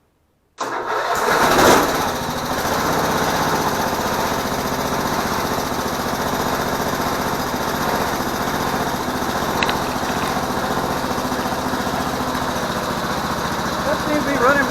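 Lift engine on a Hoverstar 2+2 hovercraft starting abruptly, then running at a steady loud drone with a constant engine rattle, close and continuous throughout.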